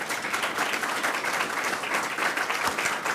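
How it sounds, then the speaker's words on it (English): Audience at a Montgomery College talk gives a round of applause, dense even clapping filling the room steadily throughout. "Can we give them a round of applause?"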